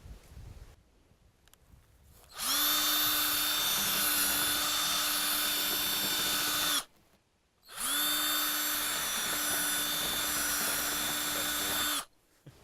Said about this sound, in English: you have to drill out the back right here to a 1/2 inch so you can be able to put the carriage bolt